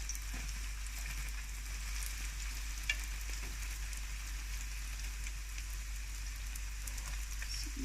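Maori fried bread dough sizzling in hot oil, a steady, close crackling hiss throughout with a low constant hum beneath and no talking.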